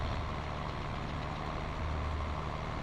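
A tractor's engine in a farming video game drones steadily and loudly while unloading a grain cart auger during an oat harvest, rising slightly in pitch and power toward the end.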